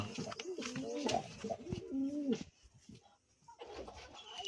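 Pigeons with colds coo in soft, throaty rolling calls, several in a row close by, then a quiet pause before faint rustling resumes.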